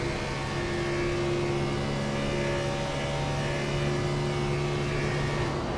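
Race car engines drone steadily at Indianapolis in a sim racing game, a continuous, even mechanical hum with sustained tones and no sharp revs, moderately loud throughout with no talking.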